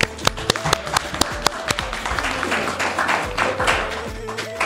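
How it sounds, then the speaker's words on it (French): Applause at the 2022 draw ceremony for a 17th-edition team tournament in New Jersey: a few sharp, separate claps at first, then thickening into dense, continuous clapping from an audience. "Donc je vous prie vraiment de l'applaudir."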